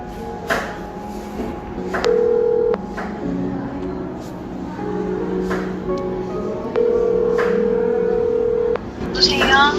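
Two long steady telephone keypad tones, the second longer, with shorter beeps around them during a Korean hidden-camera prank call, under ongoing talk and background room noise.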